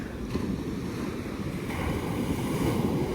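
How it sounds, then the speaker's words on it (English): Ocean waves surge and break on a Devon beach at Ladram Bay, a continuous roaring wash of surf with wind buffeting the microphone and no talking. "I have to keep watching these waves don't come and get me"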